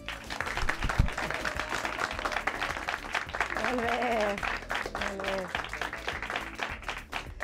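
A quiz-show studio audience gives a steady round of applause while a host talks over it.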